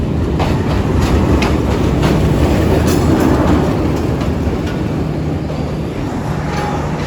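A passenger train rolling close by with a loud steady rumble, clickety-clack of wheels and faint brake squeal as it slows to arrive at the station.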